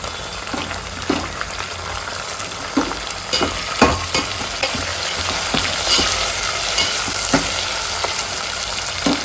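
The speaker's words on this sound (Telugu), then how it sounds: "ఇప్పుడు ఇందులో టమాటా ముక్కలు కూడా వేసేస్తున్నాను" Tomato pieces fry and sizzle steadily in a pan for a curry of drumsticks and fish, with a constant crackling hiss and occasional sharper spits and stirring taps throughout.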